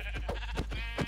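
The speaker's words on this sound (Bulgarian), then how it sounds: "Горката овца." Minecraft sheep bleat in the video game, several short wavering bleats in a quick run over a low steady background hum, fairly close.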